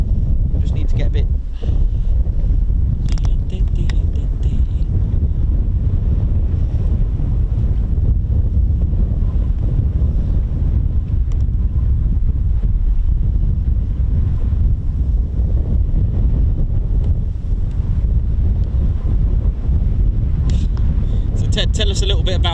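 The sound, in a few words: wind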